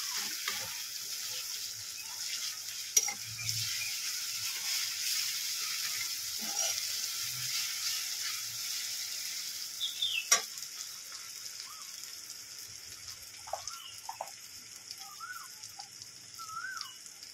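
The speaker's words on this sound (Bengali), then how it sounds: "আদা রসুন 1 চামচ দিয়ে দেবো। গন্ধটা যাওয়া পর্যন্ত একটু ভেজে নেব।" A spoonful of ginger-garlic paste frying in a pan of oil, a faint continuous sizzle with occasional clicks and scrapes of stirring over a steady hiss, no one speaking.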